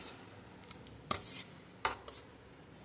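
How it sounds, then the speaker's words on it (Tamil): Semolina vathal ingredients being mixed together in a bowl, with a few faint, sharp clinks of a utensil against the bowl over a quiet scraping background, with no talking. "இப்போ எல்லாத்தையும் சேர்த்து நம்ம மிக்ஸ் பண்ணிக்கலாம்"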